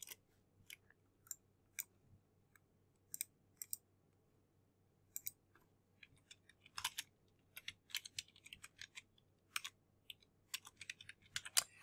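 Quiet, close clicking of keys on a computer keyboard in scattered bursts of typing with pauses between them, a low steady hum underneath and no talk.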